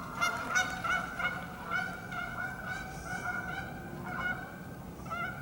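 A flock of geese honks repeatedly, a steady stream of nasal calls overlapping at moderate distance with a few louder bursts.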